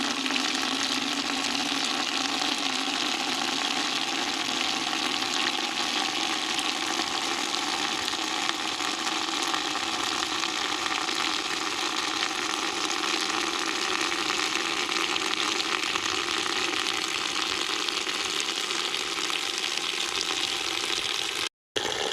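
Tap water pours steadily into a 5-gallon bucket for compost tea, a continuous dense rushing splash that holds unchanged at close range for about twenty seconds before cutting off abruptly.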